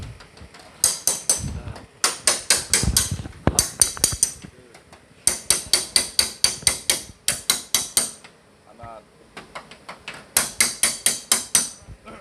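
A hammer taps a dented car body panel smooth in a fast, even run of sharp metallic strikes. The strikes come in bursts separated by short pauses, close and loud, with no talk over them.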